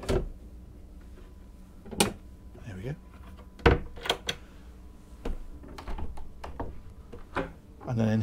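Wardrobe doors opening and closing on a Princess Y95 superyacht, sharp wooden clicks and knocks spaced irregularly, near and moderately loud, with a person talking between them.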